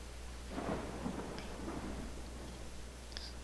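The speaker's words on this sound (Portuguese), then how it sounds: "Nossa, chuva forte." Heavy rain hisses steadily while low rumbles of thunder roll in the distance, with a couple of faint high ticks over the storm, in the video game DDTank.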